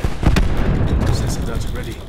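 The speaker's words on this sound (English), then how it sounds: "Cluster grenade." A cluster grenade goes off in Call of Duty Black Ops 4 multiplayer gameplay. A loud, close blast bursts early and then rolls into a dense, rumbling roar of scattered explosions that slowly fades.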